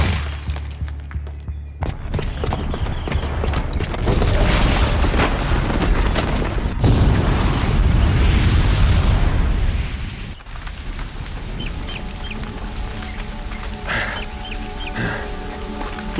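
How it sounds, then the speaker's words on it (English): Booby-trapped bomb blowing up in Horizon Zero Dawn: a heavy boom erupts into several seconds of loud rumbling, crackling debris, then settles into quieter ambience with faint tones. "the booby trap on the bomb downstairs is gonna get set off"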